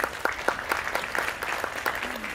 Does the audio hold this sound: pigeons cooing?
no